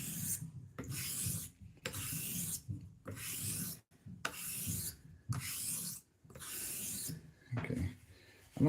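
Straight razor honed on a sharpening stone, rhythmic scraping strokes repeated about eight times at a steady pace with brief pauses between, close and clear.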